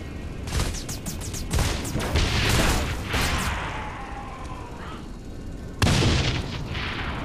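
Gunfire and explosions in the video game Saints Row 4: a burst of rapid shots and booming blasts, then a rumbling lull before another loud detonation, with voices talking underneath.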